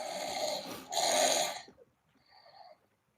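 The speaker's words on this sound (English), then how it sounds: "Kermit's snoring." A sleeping person snores in two long, rasping breaths, close and fairly loud, followed by a softer, quieter snore.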